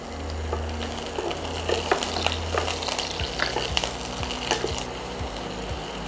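Whole cumin seeds and onion fry in hot oil with a busy crackling sizzle and scattered pops, joined by stirring scrapes and a low hum from a nearby appliance, close and unaccompanied by voices.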